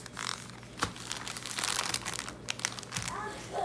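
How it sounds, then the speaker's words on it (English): Close crinkling and crumpling of a plastic Ziploc bag holding fresh cilantro as the air is squeezed out, with irregular rustles and a couple of sharper crunches; no speech. "put this inside of a Ziploc bag. Squeeze out the air."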